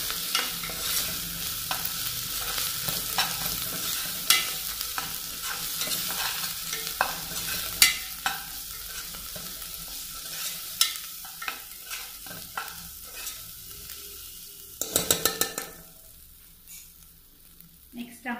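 Green chili and garlic paste fries in a hot pan while a spoon stirs it through, a busy sizzle broken by repeated scraping clicks and knocks, heard alone with no voices.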